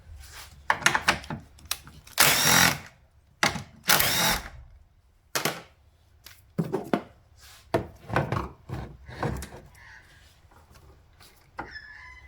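Two 10mm bolts being loosened and removed from a car's ABS pump with a ratcheting tool, a series of sharp mechanical bursts and clicks in irregular rhythm, close and fairly loud.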